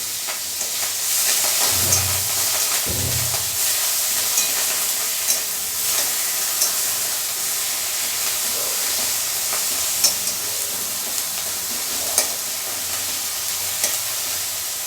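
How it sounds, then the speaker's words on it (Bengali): Onion and garlic paste frying in oil for a prawn malai curry, a constant hissing sizzle with occasional soft clinks and low thumps of stirring, no voices. "পেঁয়াজ এবং রসুন ভালোভাবে ভাজা হয়ে গেলে"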